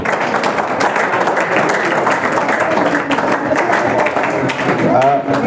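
Dense applause from an audience of students in a classroom filling the whole stretch, loud and steady, with a few voices mixed in.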